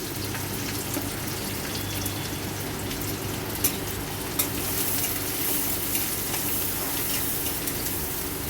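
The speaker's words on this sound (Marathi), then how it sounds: "चला तर आपला कांदा फ्राय होतोय" Onions fry in oil over a low flame, giving a continuous even sizzle with a faint watery crackle and a couple of light clicks from stirring.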